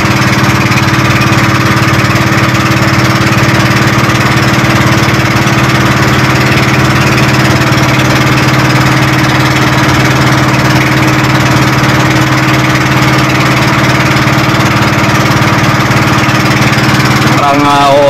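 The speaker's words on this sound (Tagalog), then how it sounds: "tatlo lang kaming sakay ng bangka na ito" A motorboat engine drones steadily and loudly throughout a ride on a small passenger boat at Alaminos, Pangasinan, with a continuous close mechanical hum from start to finish.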